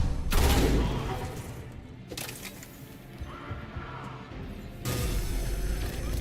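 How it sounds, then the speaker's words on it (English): Bursts of gunfire from the video game Mass Effect 3 pop through a dense, noisy battle mix, with heavier volleys at the start, midway and near the end, and voices talking over the action. "What are you guys shooting?"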